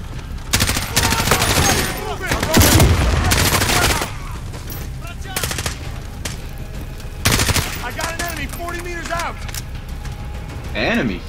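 Sustained automatic machine-gun fire rattles through a military first-person shooter firefight in Modern Warfare, loud rapid bursts stacking with other weapons while voices shout over the gunfire.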